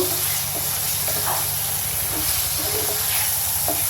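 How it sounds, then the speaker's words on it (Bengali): Chopped tomatoes hitting hot oil with spice paste for a potato curry, giving a loud steady hiss and sizzle close up, with faint stirring knocks underneath and no talking. "এখন এই পর্যায়ে আমি কুচি করে রাখা টমেটোগুলো দিয়ে দিব, দিয়ে এটাকে ভালো করে মশলার সাথে কষিয়ে নেব।"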